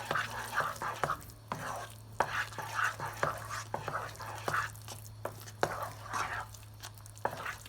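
Rawa kesari semolina being stirred in a pan over a gas flame, soft repeated scraping strokes in an irregular rhythm over a low background hum.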